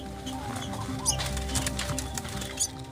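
Trafficked birds held in cages chirp and call in scattered bursts, with bright high-pitched notes rising over a steady low background hum and occasional soft knocks, moderately close.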